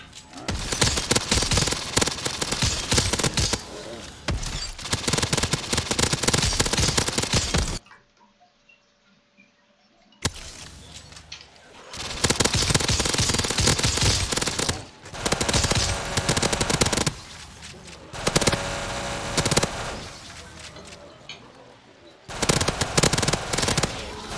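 Rapid automatic gunfire in Black Ops 3 custom zombies, long loud bursts of shots with cracks and breaking glass, broken by a brief quiet gap and shorter volleys.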